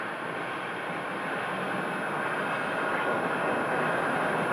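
Airbus airliner at Phoenix airport just after landing, a steady broad jet-engine roar with a thin high whine over it, constant and moderately loud throughout, no voices.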